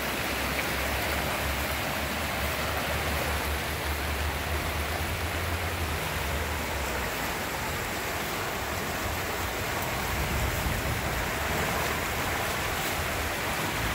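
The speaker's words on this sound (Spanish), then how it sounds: "Está furioso este río. Crecido, crecido." A swollen, flooding river rushes past a ravine edge in a steady, loud, broadband roar of churning water, continuous and alone, with no voices over it.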